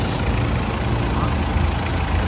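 A Mitsubishi Pajero Fieldmaster Ralliart sits idling, a steady low engine rumble mixed with broad noise, constant and fairly close, with no talk.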